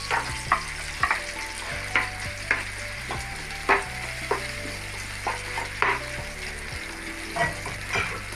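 Shallots and garlic sizzle in a hot pan alongside tomato, a steady frying crackle broken by repeated stirring scrapes and clinks, close and without talk.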